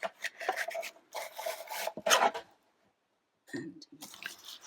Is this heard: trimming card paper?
yes